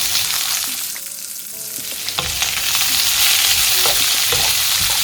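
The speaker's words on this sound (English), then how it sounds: "Now I am going to add the onions." Onions sizzling and frying in a pan for Maharashtrian kanda poha, a steady close sizzle with occasional stirring clinks, no talking.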